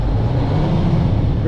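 Manual-transmission car engine during a driving lesson, a steady loud low rumble held throughout as the driver gives it gas to pull off the clutch.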